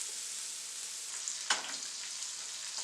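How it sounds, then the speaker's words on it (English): Overnight rice goes into a hot frying pan for beef fried rice, with a steady bright sizzle that briefly surges with a scrape and splash as it lands, close and fairly quiet with no talk. "we're gonna add the rice to this now"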